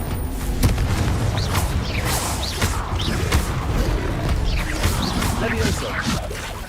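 Confringo fire-blast spells crackle and boom in a Hogwarts Legacy duel, a run of sharp whooshing impacts and crashes repeating over several seconds amid dense, busy game sound effects.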